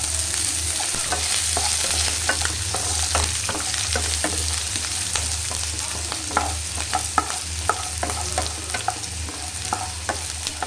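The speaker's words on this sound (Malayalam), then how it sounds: "ഇത് സവോള കോളൻ കളറാവുന്ന വരെ നമുക്ക് മിക്സ് ചെയ്യാം" Sliced onions with green chillies being stirred in a frying pan for a soya curry, a steady sizzle overlaid by frequent light scrapes and taps of the spoon, close and even throughout, without speech.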